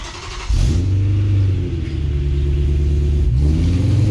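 Cold start of a V8-swapped BMW M3, a deep rumbling idle that catches with a sudden roar and settles into a loud, lumpy, steady burble with a slight dip partway through.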